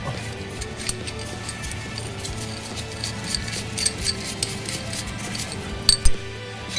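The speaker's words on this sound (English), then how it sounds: "I'm using a gear wrench because it's flat and not angled like a normal box wrench." A gear wrench ratchets on a nut and bolt while a C4 Corvette differential is being removed, making a run of light, fairly even clicks with a few sharper metallic ticks and a faint hum underneath.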